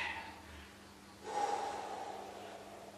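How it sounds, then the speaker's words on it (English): Slow, close breathing during a stretching exercise: a soft inhale, then a longer, louder breathy exhale taking up the second half, quiet with no talk. "while we are stretching, we are exhaling, and now while we are going back, we are inhaling and slowly exhale"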